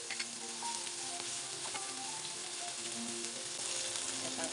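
Onion, garlic and ginger sauté in oil, a continuous bright sizzle and crackle that holds evenly throughout at a soft, moderate level, with faint occasional stirring underneath.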